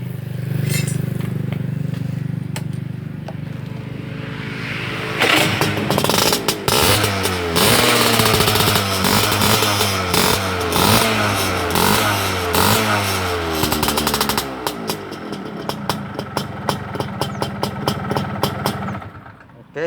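A motorcycle engine idles, then revs repeatedly in rapid bursts through a loud, modified exhaust, rising and falling before settling back to a throbbing idle.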